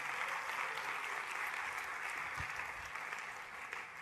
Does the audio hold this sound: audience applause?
yes